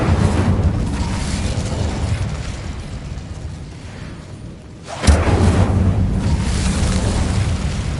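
Incendio fire spell cast in Hogwarts Legacy: a loud, roaring burst of flame and rumble that fades over several seconds, then a second sudden whooshing blast erupts and roars on steadily.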